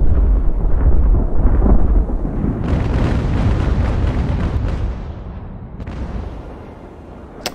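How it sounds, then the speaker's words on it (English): Heavy naval cannon fire in the warship battle game Ultimate Admiral, a dense rolling barrage of deep booms and rumbling blasts that overlap continuously, loud and close, thinning slightly toward the end. "Laser beam of cannon fire"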